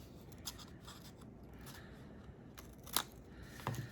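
Scissors cutting a paper seed packet, a few sharp snips and crinkles, quiet and close, with a louder cut near the end.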